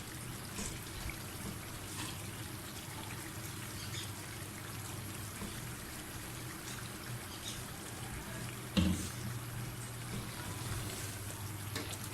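Water is poured into a simmering seekh kabab masala gravy, making a soft, continuous trickling and bubbling that runs evenly throughout with one brief clunk near the end and no talking.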